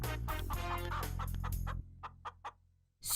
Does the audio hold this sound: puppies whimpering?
no